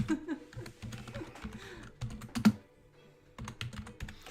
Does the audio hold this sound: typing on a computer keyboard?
yes